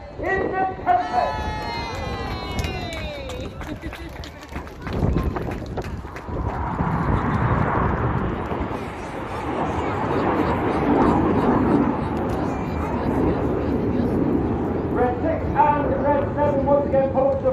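Red Arrows jets passing at an airshow over Torbay, a broad roaring rumble that swells and holds for many seconds, with a commentator talking over it at the start and end.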